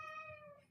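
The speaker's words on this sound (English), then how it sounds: "Oh, that's the cat. I'm like, who's screaming?" A cat meows in a loud, drawn-out, screaming cry that slowly fades, heard alone at close range in an indoor room.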